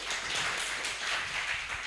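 Audience applause at a secretariat technical training session of the Kupang religious high court: many hands clapping in a dense, even patter that holds steady for about two seconds.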